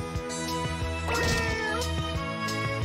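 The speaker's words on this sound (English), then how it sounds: "Cat." In Katamari Damacy Reroll a cat gives a single short, close meow over steady rhythmic game music.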